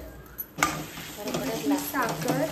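Sugar is stirred into food in a pan, with a spoon scraping and swirling against the metal over a light sizzle, steady and close. A voice talks faintly partway through.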